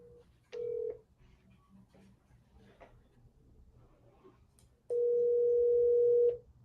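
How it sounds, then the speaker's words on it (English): A telephone line gives a short steady tone, then brief faint dialing beeps, then a longer sustained tone, sounding clean and close with a quiet background and no talk. "All right, dialing"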